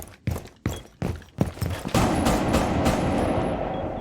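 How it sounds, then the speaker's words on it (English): Rapid bursts of close, loud SMG-11 gunfire in Rainbow Six Siege, several short volleys then a sustained rattling stream, with a harsh electronic game-like quality. "Sounds like a normal SMG-11."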